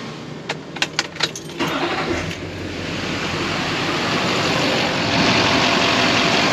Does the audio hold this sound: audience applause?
no